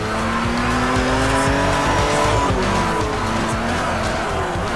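A car racing in the open-world driving game Forza Horizon, a loud sustained engine drone with shifting revs and tire squeal, steady and close throughout.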